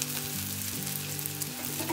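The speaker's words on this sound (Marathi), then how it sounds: "हे मिश्रण आपण परतून घेऊया चांगले" An onion papad chutney mixture with red chilli powder, turmeric and coriander sautés in a pan, giving a steady close sizzle and frying crackle with light stirring, no voices.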